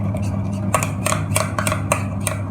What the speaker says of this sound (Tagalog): Mix mo lang siya hanggang maging malapot.